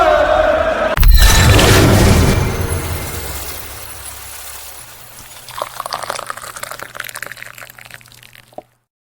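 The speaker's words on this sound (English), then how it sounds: "That tea pouring?" Tea pours in a loud, splashing stream that gradually thins and softens, ending in a few trickles and drips, heard close with no talking.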